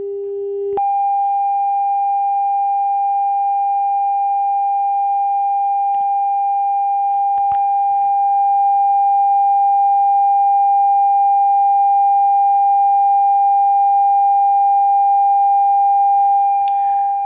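A steady pure 800 hertz test tone sounds alone and loud for over sixteen seconds. It follows a brief lower tone at the start, with a few faint clicks along the way.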